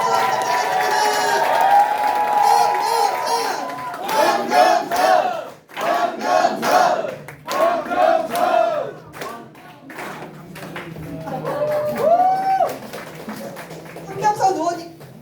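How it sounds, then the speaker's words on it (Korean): A crowd at a political party members' meeting breaks into applause and cheering, with rhythmic clapping, shouts and whoops rising and falling in waves, and voices calling out loudly over the clapping. "큰 박수 부탁드리겠습니다."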